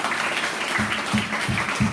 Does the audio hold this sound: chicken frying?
no